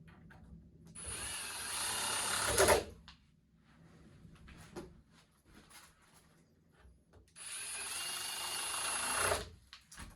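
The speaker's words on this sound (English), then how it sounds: "all I'm going to do now is drill this into the door, using the same screws" A Ryobi power drill whirs in two bursts of a few seconds each, driving screws into a slab door to fit a door knob latch, with quieter handling noises and clicks between them.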